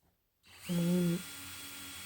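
After a moment of quiet, a power drill whirs up to a loud, steady high-pitched drone while drilling through laminate furniture, briefly strains, then settles into a lower continuous spin.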